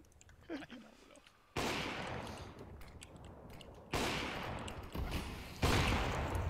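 Heavy gunfire in a Counter-Strike matchmaking game comes in three loud bursts a couple of seconds apart, each a dense rattle of shots after a quiet opening with faint murmuring.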